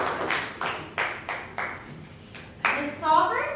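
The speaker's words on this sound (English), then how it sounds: "one last round of applause for Sarah Sovereign" An audience at a live murder-mystery stage show in a library claps in a short round of applause, with sharp distinct hand claps that swell toward the end.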